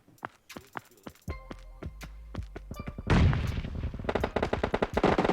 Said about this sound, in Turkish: Suya sıkıyorlar.